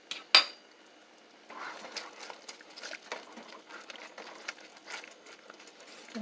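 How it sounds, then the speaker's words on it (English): Chicken drumettes stirred in a pot of sauce, giving a sharp utensil knock at the start, then a quiet run of scraping, clinking spoon-on-pot sounds and soft patter, close by with no talking. "Now let me stir it up."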